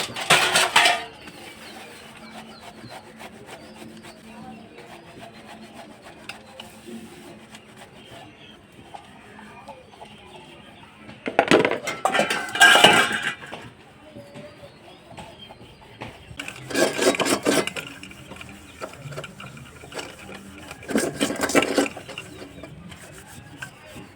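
Pots and dishes being scrubbed by hand with coconut fibre in a village kitchen, heard as bursts of rough rasping and rubbing separated by quieter stretches, close and without talk.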